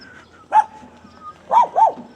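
A dog barks three times, one sharp bark followed a moment later by a quick pair, fairly close and clear over a quiet outdoor residential background in Quezon City, Philippines.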